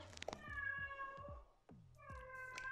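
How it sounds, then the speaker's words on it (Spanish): A cat meows twice, drawn-out and tonal, close by and fairly quiet, with a short gap between the calls. "Esa es mi gata"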